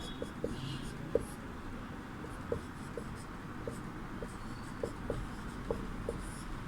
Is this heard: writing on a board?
yes